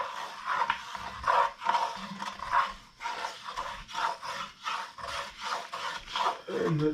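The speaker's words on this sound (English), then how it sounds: "we're scraping off as much off the bottom as possible" A utensil scrapes repeatedly across the bottom of a jambalaya pot in a one-pot cooking setup, rhythmic rasping strokes close by and fairly quiet, with no talking.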